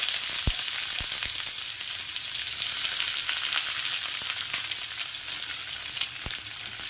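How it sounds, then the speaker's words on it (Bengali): Chopped onion fries with garlic in hot oil, a continuous bright sizzle held at an even level for the whole stretch, punctuated by a few sharp utensil taps, with no voices. "পেঁয়াজটাকে একটু হালকা ভেজে নেব"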